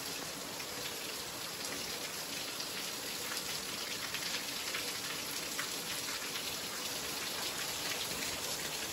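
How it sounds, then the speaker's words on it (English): Water from a leak drips and splashes as many little drops fall into a room of a village house in Bulgaria, a dense continuous patter like steady rain, even and moderately loud throughout with no talking. "it's basically dripping down from here. It's splashing onto there."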